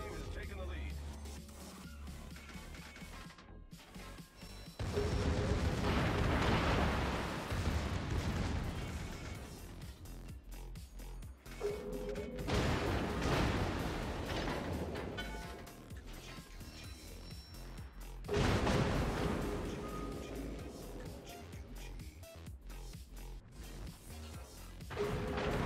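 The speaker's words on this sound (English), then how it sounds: "Or I can just fire my main guns" Main guns of a Tier X German battleship, the Großer Kurfürst, fire in World of Warships in three heavy salvos about six seconds apart, each a deep roaring boom that rumbles away, with someone talking throughout.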